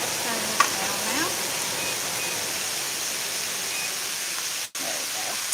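Beef frying in a pan for an Asian beef dish, stirred as it cooks: a loud, steady sizzle with a soft scrape near the start and a brief dropout just before the end.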